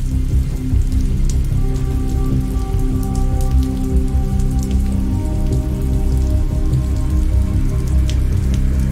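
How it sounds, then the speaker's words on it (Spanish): Steady rain falls continuously onto surfaces, a dense, even hiss with scattered drips, loud and close with no voices. "Empezaba a llover cuando detuvo el automóvil."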